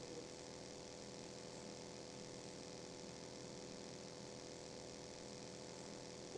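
Airplane flying over the Erangel map in PUBG, a steady droning propeller-engine hum that stays at an even, moderate level throughout without any speech.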